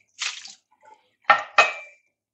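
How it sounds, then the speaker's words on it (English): Water poured out of the reservoir of a Love Brewing 25L boiler still with a T500 reflux column, heard as a splashy gush followed by two sharper close splashes, with quiet gaps between. "manually opening up the reservoir and just pouring all the water away"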